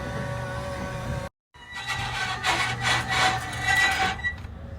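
A garage door is raised, giving a continuous grinding, rasping scrape of metal parts that cuts out briefly, then resumes in uneven surges.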